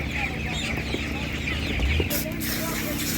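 A laying hen clucks close by amid the busy background din of a rural animal market, with a few louder cackles rising over the constant crowd noise.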